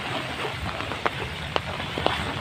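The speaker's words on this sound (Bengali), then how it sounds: "3 দিন যাবৎ প্রচুর বৃষ্টি হচ্ছে।" Heavy rain after days of downpour, with waterlogged roads and ponds overflowing, gives a steady broadband hiss, broken by a few sharp splash-like clicks spaced about half a second apart. No one speaks.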